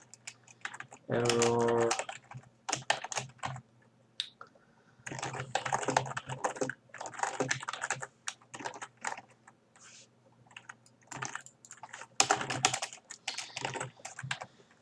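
Someone types code on a computer keyboard while working in Unity. Quick bursts of close keystroke clatter come with short pauses, and a voice talks briefly between them.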